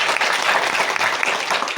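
Loud, dense audience clapping fills a tribal community awareness meeting in honour of guests from Palamu, a continuous close burst of many hands with no talk over it.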